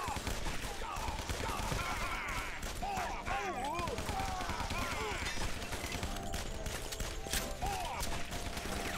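Rapid bursts of machine gun fire and other gunshots in the shooter game Guns, Gore & Cannoli, dense and continuous with overlapping shots and chirpy game effects mixed in.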